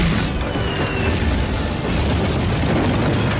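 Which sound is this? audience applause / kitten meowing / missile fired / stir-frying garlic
missile fired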